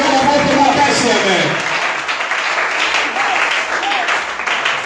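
A church congregation applauds steadily, a broad wash of clapping close and loud from start to finish, with a voice over it at the beginning.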